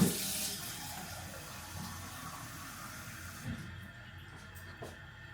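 Cold water pours from a tap into a container for mixing with lemon, a steady close hiss that starts strong and fades gradually before stopping near the end.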